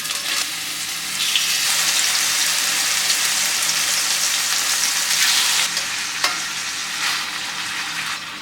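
Chicken frying in avocado oil in a pan, a loud continuous sizzle that stays fairly even throughout, with a few brief clinks and stirs and no voices.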